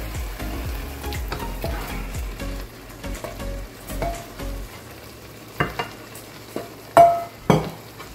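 Ground pork for Filipino giniling frying in a pan, with loud bursts of scraping and stirring at first that give way to a softer steady sizzle broken by occasional clanks of the spoon.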